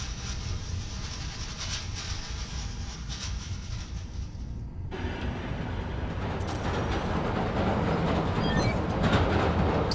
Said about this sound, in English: Hearing the clatter of the wheels, the squealing when the trains turn or stop